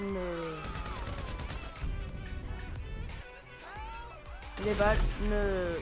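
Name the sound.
gunshots in the video game GTA 5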